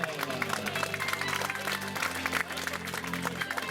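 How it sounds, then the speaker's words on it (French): Crowd applauding the junior podium at a 5 km road race prize ceremony in Seurre, sustained scattered clapping from many hands at a distance, with faint voices and a low hum mixed in. "Applaudissements le podium junior"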